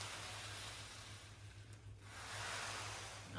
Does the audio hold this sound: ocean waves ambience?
yes